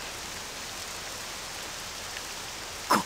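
Steady rain in the Octopath Traveler II video game, a dense even hiss of falling water that holds without pause, with a brief brighter patter near the end.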